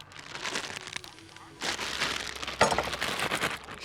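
A vermouth and vodka cocktail is shaken with ice in a shaker, giving a run of loud, rattling, crunchy bursts after a quieter start, close up.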